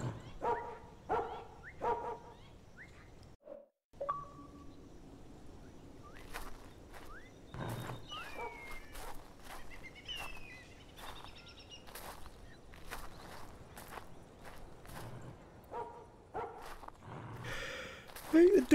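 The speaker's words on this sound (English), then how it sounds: "Dogs locked in the shed." Dogs locked in a shed in a video game barking repeatedly, sharp muffled barks and yips scattered in bursts across the stretch, moderately near, with some whimpering between.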